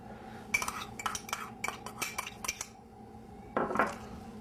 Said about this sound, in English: So the next thing I'm going to add is chopped ginger.